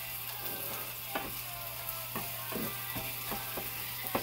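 Ginger, onion and garlic sautéing in a pan for chicken liver adobo, a steady close sizzle broken by a string of sharp spatula scrapes and clicks against the pan, with a low constant hum beneath.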